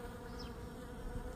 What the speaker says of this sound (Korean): 이렇게 해서 완전 꿀벌들의 잔치 크로커스 꽃 구경하세요.